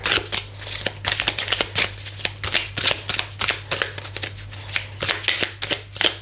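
Tarot cards are shuffled by hand in quick rhythmic riffles and snaps, close and crisp over a low steady hum, with no voices.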